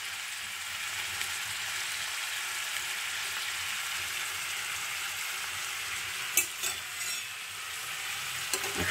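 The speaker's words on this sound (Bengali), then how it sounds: "এবং এই যে পেঁয়াজটা, এটা কিন্তু আমি শ্যালো ফ্রাই করে নেব, নট ডিপ ফ্রাই হবে।" Chopped onions and dried red chillies shallow fry in a pan with a steady, even sizzle, close and moderately quiet, broken by a few brief scraping stirs near the end.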